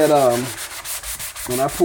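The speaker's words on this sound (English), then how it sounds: "we got to start sanding" Spot sanding of a cracked finish on a kitchen sink: close, rhythmic rasping strokes, scratchy and repetitive, mixed with brief tonal squeaks from the sanding pad.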